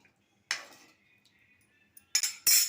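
A metal spoon clinks against a pot while stirring chickpea masala after salt is added, a few sharp scrapes and taps separated by quiet pauses, close and fairly loud.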